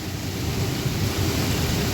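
A thunderstorm with heavy rain in Dubai, a steady hiss of rain on surfaces with a deep, low rumble of thunder rolling beneath it across the short span.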